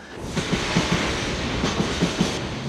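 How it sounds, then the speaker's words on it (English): A freight train rolls past on tracks through a factory district in the Tokyo suburbs, with steady rumble and repeated clickety-clack wheel beats over the rail joints, loud and close throughout. "Freight train. Do you know how long it's been since I've seen one?"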